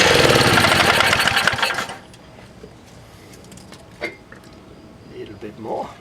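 A Baja minibike's small engine with an uncleaned carburetor runs in a loud, rapid buzzing chatter for about two seconds, then cuts out, leaving quiet background with a few faint knocks and clicks.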